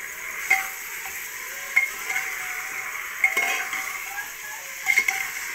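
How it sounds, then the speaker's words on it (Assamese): Chicken frying in a pressure cooker over a high gas flame, with a steady hiss of sizzling oil broken by a few sharp scrapes and clinks as a utensil stirs the meat against the metal pot. "লৰাই দিম"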